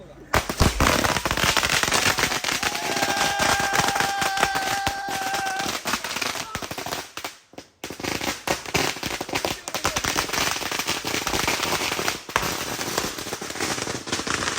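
Gundu firecrackers bursting in a long, dense barrage of sharp cracks and bangs, loud and close, with a short lull midway before the rapid popping resumes and voices are faintly audible beneath.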